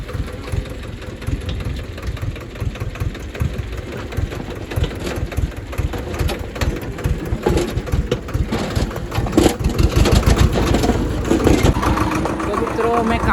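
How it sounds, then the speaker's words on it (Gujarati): A tractor engine chugs in a steady, rough rhythm as the tractor crosses a deep pothole in the road. The engine is close and loud and grows a little stronger toward the end. "હવે અહીંથી પાર કરીએ ટ્રેક્ટરને"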